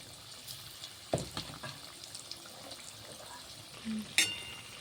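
Gokul pitha frying in oil, a faint, steady sizzle broken by a few sharp clinks and taps, with no voice over it.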